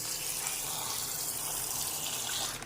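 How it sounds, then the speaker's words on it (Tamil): Steady, full-bodied rush of water pouring continuously into a bowl, close and fairly loud, cutting off abruptly at the very end. "இப்போ இதில் தண்ணி ஊற்றி வச்சிடலாம்"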